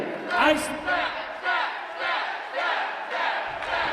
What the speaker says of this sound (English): Crowd clearly chanting for the staff here.